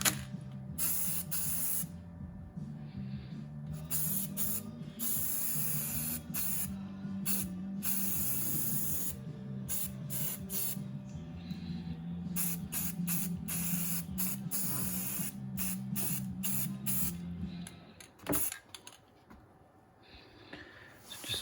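Rust-Oleum spray paint hissing from an aerosol can onto the inside of a 2009 KTM RC8 motorcycle belly pan, a long steady spray with brief pauses, ending in a few short bursts.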